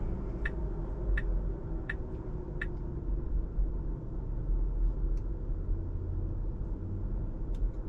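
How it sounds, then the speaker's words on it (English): A Tesla car parks itself automatically, giving a low steady rumble of the moving car with a few faint ticking clicks early on and soft scattered clicks later, and no talk. "very gracefully parking the car"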